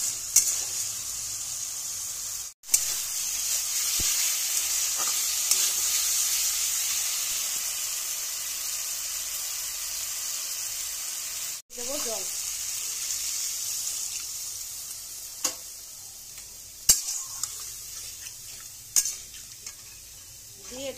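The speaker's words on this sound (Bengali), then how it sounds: "একটু একটু জল দেবো আর কষাবো।" Spice paste for a Bengali tangra fish curry being sautéed in a pan with small splashes of water, a steady close sizzle with stirring scrapes and a few brief clatters, no talking.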